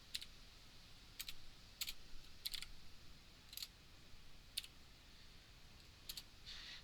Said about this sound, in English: So let me just type it out before.